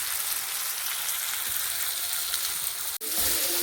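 Spice masala fries in a pan with a steady, close sizzle and crackle throughout, a brief dip near the end followed by the frying continuing.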